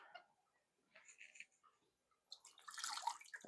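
Water drains from a can of carrots with a faint, brief splashing trickle at the end, following a few quiet clinks and handling sounds.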